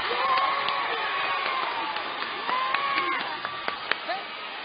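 A loud crowd at a high school state 1A quarterfinal basketball game, with a dense roar of voices throughout, scattered sharp claps and shoe squeaks, and a few louder bursts toward the end.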